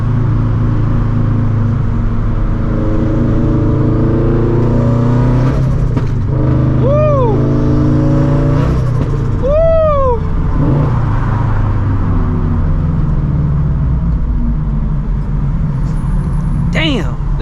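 A 400hp turbocharged FRS pulls hard through the gears, its engine note climbing steadily in pitch, dropping at each shift with pops from the exhaust, loud and close from inside the car, with someone talking over it.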